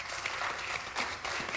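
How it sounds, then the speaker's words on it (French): An audience applauds a quiz team, a short burst of moderately loud clapping in a studio setting. "ça s'applaudit s'il vous plaît"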